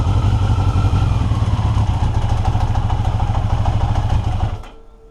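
A 1982 Yamaha XJ650 motorcycle engine runs loud and close with a rough, clattery idle while the clutch is worked, then cuts out abruptly near the end, leaving quiet.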